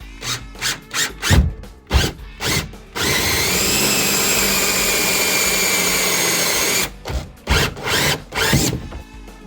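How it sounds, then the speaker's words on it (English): A power drill with a 1 1/8-inch hole saw whines steadily for about four seconds cutting through a plastic kayak hull, framed before and after by bursts of knocking and handling noise. "I'm going to drill a 1 1/8 hole in my boat"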